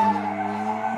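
A car drifting gives off a sustained, loud tire squeal for about a second, a steady high screech riding over the engine's drone.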